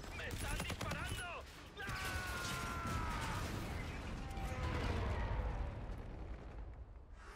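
Gunfire rattles through a video game match in dense bursts under mechanical whirs and tonal game effects, with the sound swelling and thinning over several seconds and a voice speaking over part of it.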